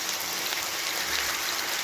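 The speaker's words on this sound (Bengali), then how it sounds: "এদিকে আবার প্রচণ্ড করে বৃষ্টি হচ্ছে" Heavy rain falls outside as a steady, dense hiss with no breaks, close and fairly loud.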